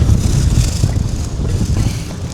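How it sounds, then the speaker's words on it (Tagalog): Strong gusting wind buffets the microphone outdoors in Astana, Kazakhstan, a continuous loud low rumble with uneven surges and no speech. "Wait lang, sobrang lakas ng hangin."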